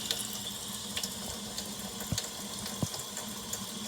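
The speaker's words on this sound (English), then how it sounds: "There's the water, and I'm just letting it fill this up" A kitchen faucet runs steadily, its water stream hissing into a spoon at close range, with a few small clinks and splashes over the flow.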